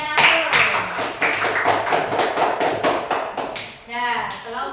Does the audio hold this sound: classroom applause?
yes